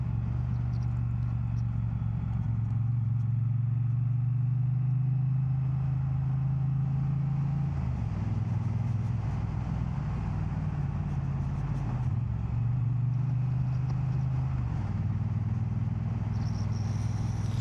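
A Triumph Bonneville T100 on a winter ride through Dovedale gives a continuous low engine drone with wind rush, its pitch stepping down and back up with gear changes over the whole stretch.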